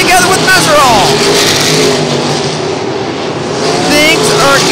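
World of Outlaws sprint cars roar around the Eldora Speedway dirt track, engines revving and sweeping past loudly with rising and falling pitch, while a commentator talks over the racing.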